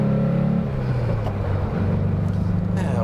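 A 1969 Porsche 912 engine held at full throttle while driving, a steady loud droning rumble from inside the car with slight shifts in pitch, nothing else over it.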